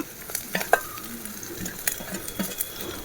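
Onion, ginger and curry leaves sautéing in oil in a pan, a low sizzle broken by scattered clinks and scrapes of a spoon stirring against the metal, close and fairly quiet.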